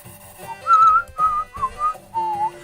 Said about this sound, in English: I shouldn't whistle, I have no tune in my head.